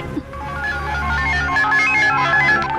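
A telephone rings indoors with a bright, repeating electronic tone, steady and fairly loud, with no talking over it.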